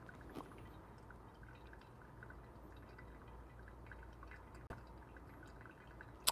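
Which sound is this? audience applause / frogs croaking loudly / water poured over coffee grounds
water poured over coffee grounds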